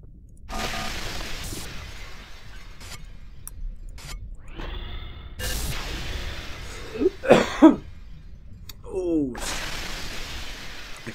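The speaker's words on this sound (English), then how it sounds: "I cough and I die." In a video game, a few harsh coughs ring out amid sharp breaking and shattering effects and scattered game noises, with a voice grunting now and then.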